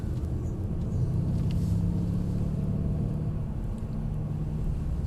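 Mercedes-Benz AMG car with a manual gearbox driving along, a steady low engine rumble and road noise heard from inside, continuous and moderately loud, with no one speaking.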